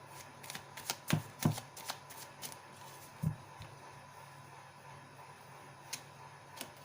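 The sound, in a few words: tarot cards being shuffled and drawn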